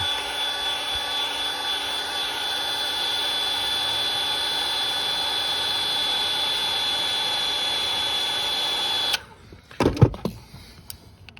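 Steady roaring blower hum of a heat gun warming the adhesive under an iPhone 13 back glass, running loud and constant for about nine seconds before cutting off, followed by a few scattered clicks and handling knocks.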